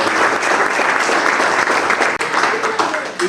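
A room full of people gives sustained, loud applause, with dense clapping throughout and a brief dip midway.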